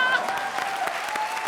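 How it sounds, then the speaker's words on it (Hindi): Loud applause from a comedy show studio audience, a dense steady wash of clapping filling the whole moment, with faint voices mixed underneath. "जोरदार तालियां"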